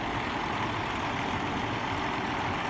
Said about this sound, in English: That's a damn dump truck there.